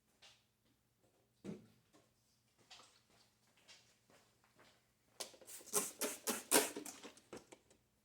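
A restored Honda XL-175 gas tank gets its dust knocked off in a run of close, irregular taps and knocks that start sparse and faint, then build into a louder, denser cluster of rattling hits.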